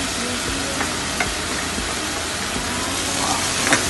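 Spring onions being stirred into bean sprouts and garlic frying in a wok, a steady close sizzle with soft stirring scrapes and a few light clinks throughout.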